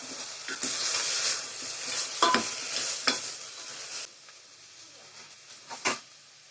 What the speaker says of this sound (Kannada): ಹಾಕ್ಕೊಂಡು ಚೆನ್ನಾಗಿ ಫ್ರೈ ಮಾಡ್ಕೊಳ್ಳೋಣ.